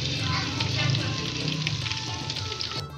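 Chicken drumsticks frying in hot oil give a steady, dense sizzle throughout, close and loud, with a faint voice in the background.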